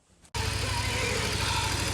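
A 2002 Yamaha V-Star 650 motorcycle engine, just fitted with a repair for an oil leak, bursts into a loud, steady rumbling run after a brief quiet moment, close by with no talk.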